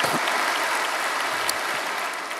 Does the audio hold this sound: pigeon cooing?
no